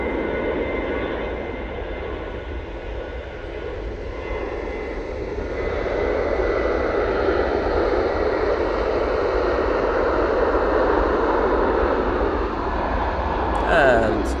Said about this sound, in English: TUI that you're going to see coming through the shot in a minute.